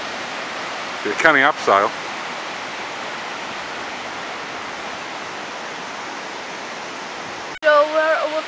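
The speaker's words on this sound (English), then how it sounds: "So we found this waterfall, and I mean it's amazing." A waterfall at Ashgill Force pours in a steady, loud broadband roar that fills the whole stretch, with brief bursts of speech near the start and again at the end.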